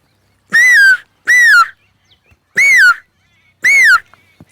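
Four loud, clear whistled bird calls, each a short downward-sliding note, evenly spaced with silence in between.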